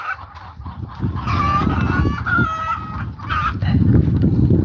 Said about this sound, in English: You can hear the birds are in there laying away.